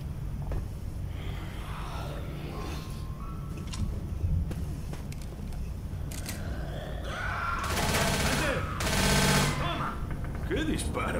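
Rapid bursts of automatic gunfire crackle loudly over a dense, noisy Left 4 Dead zombie game soundscape, with a couple of heavier volleys toward the end.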